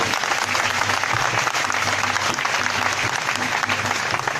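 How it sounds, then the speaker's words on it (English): Crowd clapping at an outdoor gathering in Aba, Abia State after children sang the national anthem, a sustained, loud wash of applause from many hands. "Please, a round of applause for these children once again."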